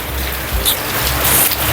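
Heavy, unrelenting rain pours down on a large two-storey house in Camarines Norte, a loud, close, steady wash of hiss with no pauses.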